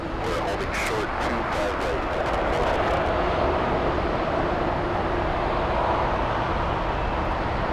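A Boeing 787 Dreamliner at Los Angeles International Airport produces a loud, continuous broadband jet roar that stays steady and close throughout.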